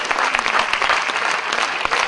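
Loud, dense applause from an audience at a Gujarati religious discourse event in Kalyan, a steady roar of clapping close up filling the whole moment without talk.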